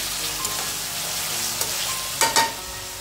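Prawn rice masala sizzles steadily in a pan while being stirred and sautéed, with a few sharp scraping clinks near the end; no one speaks.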